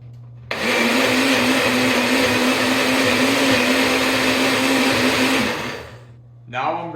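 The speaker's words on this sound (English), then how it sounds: "I'm gonna toss it on the blender" A countertop blender whirs loudly and steadily for about five seconds, churning a cottage cheese omelette mixture seasoned with pepper and garlic powder, then winds down, followed by a brief voice.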